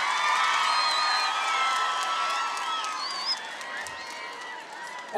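A crowd at the opening ceremony of the Ishonch credit-trade center's Kuva branch cheers and whoops loudly and steadily, with voices shouting over the din throughout.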